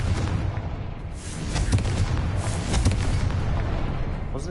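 A Confringo spell explosion in the video game Hogwarts Legacy, a dense rumbling blast with sharp bursts near the two-second and three-second marks, loud and continuous throughout without talk.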